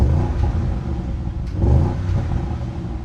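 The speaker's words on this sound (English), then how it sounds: "unfortunately we've got a soft limiter on the RS-Q8, but don't get me wrong, that V8 sounds incredible whilst it's on the move." An Audi RS Q8 V8 engine revs against its soft limiter, a loud, deep rumbling roar that swells and eases in repeated surges close by, with no voices.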